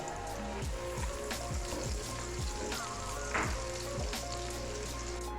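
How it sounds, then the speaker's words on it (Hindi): Minced garlic and finely chopped carrot fry in hot oil in a pan, giving a steady close sizzle with the occasional scrape and clink of a stirring spoon. "यहाँ पे देखें जी जो लहसुन है वो अच्छी तरह फ्राई हो गया"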